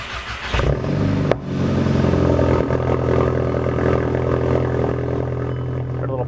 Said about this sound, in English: It's the first startup with the new downpipe.